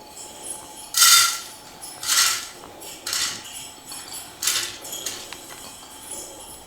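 A handful of washed rice goes into a pressure cooker, heard as four or five short bursts of grainy rattling and clinking against metal, separated by quiet pauses.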